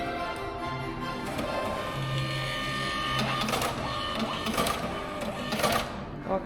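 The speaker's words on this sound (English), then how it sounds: "they're printing the cards. Those are our tickets." A ticket printer at a museum entrance in Budapest whirs and clacks steadily as it prints entry tickets, with mechanical ticking and a few louder clicks toward the end, close by.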